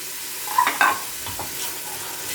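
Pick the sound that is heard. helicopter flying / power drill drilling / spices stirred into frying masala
spices stirred into frying masala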